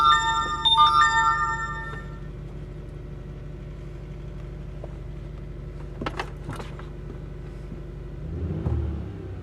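A car engine idles with a low, even rumble, a few electronic tones at the start and brief clicks and shuffles later.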